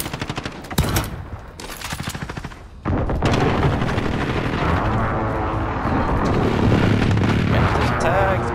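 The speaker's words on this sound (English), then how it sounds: "Precision airstrike," A precision airstrike in Call of Duty: Modern Warfare, a rapid volley of loud explosions and gunfire followed by a sustained roaring barrage of blasts and rumble, with brief talk from players.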